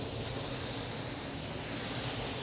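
A spray gun lays down a urethane-based coating in a steady, loud hiss that runs continuously and evenly throughout, with no talking.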